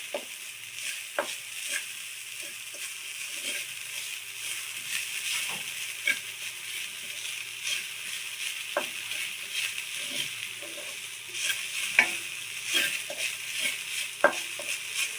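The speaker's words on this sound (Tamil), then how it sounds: "இப்போது நம்ம துருவி வச்சுருக்க தேங்காவை போட்டுக்கலாம். நெய்லேயே நல்லா வறுத்துடலாம்." Grated coconut fries in ghee for aval ladoo under a soft, steady sizzle, with a spoon scraping and tapping the pan at an irregular pace throughout.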